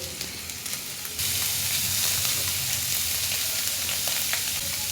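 Shredded chicken frying in hot oil in a pan, giving a steady loud sizzle that jumps in volume as the pieces go in and continues as a dense hiss with faint stirring clicks.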